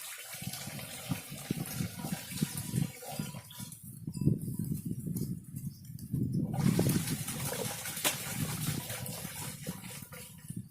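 Cow urine pours from a container into a 200-litre barrel of water while jivamrut is being prepared, a continuous splashing gush that briefly thins and then surges again.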